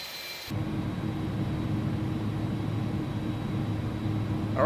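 An Airbus A310 jet engine spools up in the X-Plane 11 flight simulator, a steady low droning rumble with broadband hiss that starts abruptly and holds evenly throughout, with no voices.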